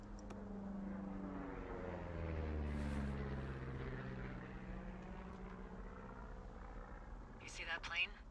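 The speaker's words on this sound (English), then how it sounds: "You see that plane?" A propeller plane drones overhead in the wilderness of the video game Firewatch, a steady low engine hum that swells and fades, with people talking over it.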